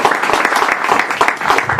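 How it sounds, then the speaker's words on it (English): Press conference audience applauding Steve Cunningham, a boxer facing Tyson Fury in New York City; dense, steady clapping from a sizeable crowd fills the whole short stretch at an even, fairly loud level. "I think he deserves a round of applause for stepping up to the plate."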